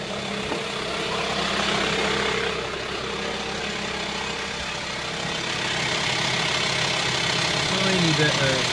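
A Chinese diesel heater runs inside a Volkswagen T5 van, giving a steady low mechanical hum with a faint ticking pulse that stays constant and close for the whole stretch.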